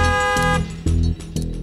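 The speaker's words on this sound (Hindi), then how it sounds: "ड्राइवर हॉर्न दे रहा है" A car horn honks in several short blasts with brief gaps between them, loud and close.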